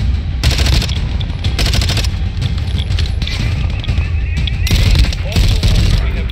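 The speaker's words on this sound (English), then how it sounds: "You are taking effective fire." Rapid bursts of automatic gunfire in Call of Duty Warzone, loud and close, firing in several volleys over a dense din of continuous game combat noise.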